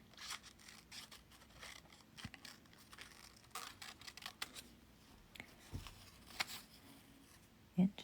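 Scissors snipping through paper while cutting out the tail and wings of a paper dove, a run of short, crisp, irregular cuts and rustles, close and soft, with light handling noise between snips.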